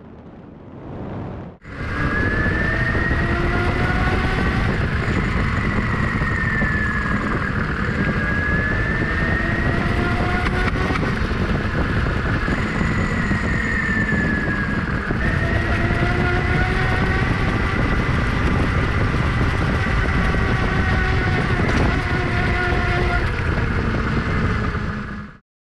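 Homemade motorized wheelchair driving at 50 km/h, a loud sustained electric motor whine with rising and falling pitch sweeps over heavy rushing wind and road rumble, starting abruptly after a short quiet lead-in.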